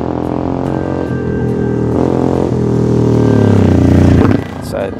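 A Manx Norton, the iconic British motorcycle, revs its engine up close, a loud, throaty roar swelling through several blips over about five seconds before dropping back toward idle.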